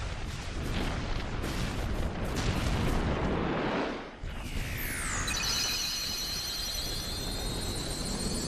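A big explosion in the video game Kingdom Hearts after the final boss is defeated: a long, loud, roaring blast of noise that dips briefly and then gives way to bright, shimmering sweeping tones, with no talking.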